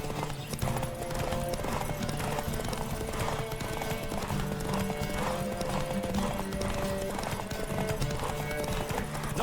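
A horse gallops in the video game The Witcher 3: Wild Hunt, hoofbeats clip-clopping at a quick, even rhythm alongside a brief whinny, with music playing throughout.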